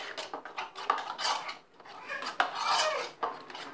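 A spoon clinks and scrapes against a bowl as oil is mixed into teriyaki sauce, with quick, close, irregular metallic taps and rubbing strokes.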